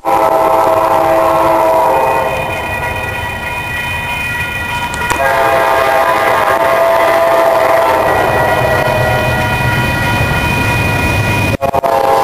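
Amtrak Sunset Limited passenger train rolling through Post Oak Crossing, its horn blaring loud and close in long sustained blasts over the heavy rumble and clatter of the passing cars.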